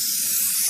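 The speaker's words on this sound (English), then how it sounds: "Basically, this paint can has the power of a spray gun right off the bat." Spray paint can spraying a Jeep grill, one short, close, loud hiss that stops abruptly when the nozzle is released.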